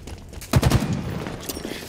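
Rapid automatic gunfire in a Halo multiplayer match crackles in a loud, dense burst that kicks in suddenly and then trails into scattered shots and distant action.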